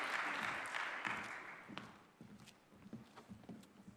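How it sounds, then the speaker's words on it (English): Applause from an audience at a formal ceremony greets a speaker invited to the stage, a dense clapping wash that starts loud and tapers into scattered, fading claps over about four seconds. "May we all welcome him with a round of applause"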